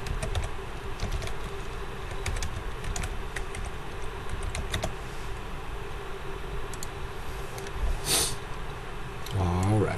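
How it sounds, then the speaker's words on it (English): Quick bursts of typing on a computer keyboard, close and fairly quiet, irregular clusters of clicks and taps through most of the stretch, with a soft scrape near the end. "I'm going to type this out."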